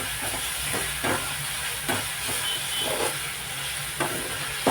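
Prawns sauté in a ginger garlic paste gravy, giving a constant loud hissing sizzle with a few soft scraping stirs at intervals, close and with no speech.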